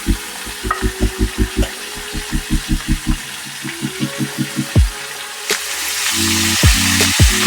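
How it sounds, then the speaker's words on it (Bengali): Cauliflower, boiled potatoes and beans frying together in a pan, stirred in steady scraping strokes over a continuous sizzle, close and fairly loud with no talking. "একটু নেড়ে চেড়ে নিয়ে বিনসগুলোকেও দিয়ে দিলাম।"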